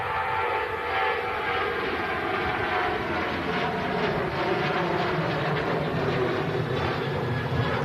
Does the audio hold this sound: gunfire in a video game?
no